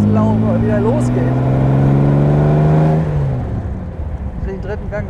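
A 1977 Jaguar SS 100 Suffolk replica, a prewar-style roadster with over 200 horsepower, pulls away with a loud rising engine note for about three seconds before the revs drop and it settles into a lower drone.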